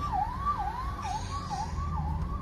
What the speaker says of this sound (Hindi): एम्बुलेंस वाला खाली सायरन बजा रहा है